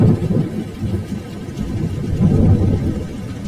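Heavy rain pours steadily in an animated story, with a low continuous rumble of thunder rolling underneath throughout, loud and dense with no voices.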